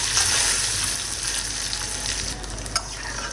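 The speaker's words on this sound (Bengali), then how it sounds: "দেখো একটু লাল লাল করে না ডিমটা ভেজে নিচ্ছি" Eggs coated in turmeric fry in hot oil in a home kitchen, giving a steady, loud broadband sizzle throughout with a faint stir or clink near the end.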